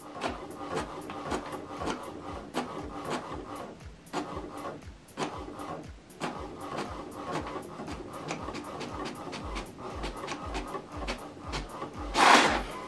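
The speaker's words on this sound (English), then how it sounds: "Now this document is going to print out." An HP Deskjet 3772 inkjet printer prints a document: rapid, repeated mechanical clicks and whirring carriage passes in a busy rhythm, close and fairly loud, with no talk over it.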